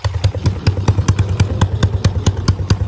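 Honda Grom 125cc motorcycle with 698 miles idles up close, its single-cylinder engine thumping in a steady, even rhythm with light mechanical clatter.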